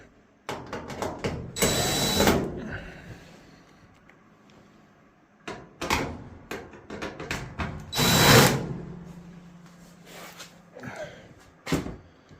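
A power drill removes screws from a Samsung dryer in short whirring bursts, two longer and louder runs among several brief spins, close by in a quiet indoor space with occasional clicks and handling sounds.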